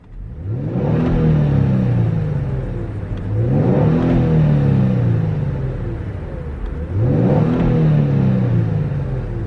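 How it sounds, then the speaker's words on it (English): Twin-turbo Kia Stinger GT exhaust heard from inside the cabin with the windows down, rising in three loud acceleration pulls, each a deep rumbling surge that climbs in pitch and then eases off. "here's what that exhaust sounds like inside of the cabin"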